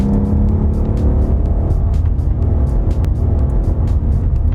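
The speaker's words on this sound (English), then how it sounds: "when you're driving it at low revs, there is that V8 burble, this V8 burble" A Ford Mustang's V8 engine burbles at low revs, a deep rumbling idle with rapid uneven pops, close and loud throughout.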